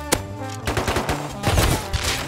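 Rapid automatic gunfire in Rust rattles through several close, sharp bursts with brief gaps, over a busy background of game noise and no clear talk.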